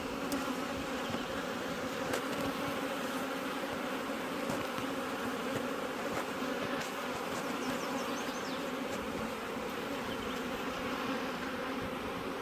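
Honeybees buzz around brood frames at an open hive, a dense continuous hum with individual bees droning close past now and then.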